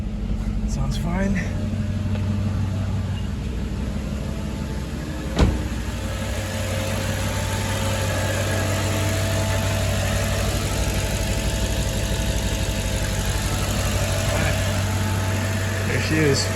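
A Mercedes C55 AMG engine with a custom cold air intake idles steadily with a low rumbling drone, heard from inside the car, with one brief click partway through.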